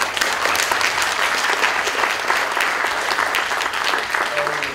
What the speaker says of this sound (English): Round of applause to both teams.